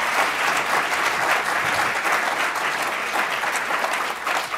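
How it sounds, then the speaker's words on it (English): Sustained audience applause fills a hall at an education event, steady and dense from start to finish with only a slight dip near the end. "Can we give them another round of applause?"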